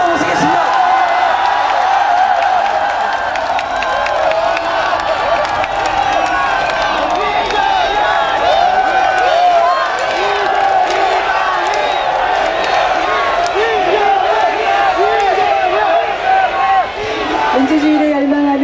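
A large outdoor crowd at a candlelight rally in the plaza in front of Seoul City Hall, a protest over the National Intelligence Service's election interference, cheers, whoops and applauds loudly and steadily, with dense shouting and clapping running throughout.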